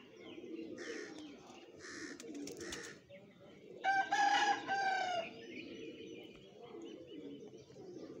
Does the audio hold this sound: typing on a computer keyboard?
no